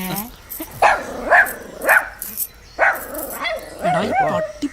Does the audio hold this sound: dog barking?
yes